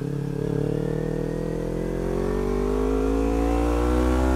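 A Kawasaki Ninja 250 with a Jeskap exhaust and no dB killer accelerates, its loud, close engine drone climbing steadily in pitch with no pause, heard alone without voices.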